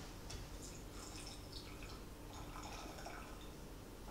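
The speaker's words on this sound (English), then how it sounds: "we're going to put 30 milliliters of water in here" A small measured amount of water, about 30 milliliters, poured into a container during a hot ice science demonstration, giving a faint, steady trickle with light dripping and no talk.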